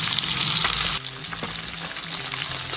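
Boiled eggs frying in oil with masala, a loud bright sizzle that drops to a lower hiss after a second, with faint stirring and scraping underneath.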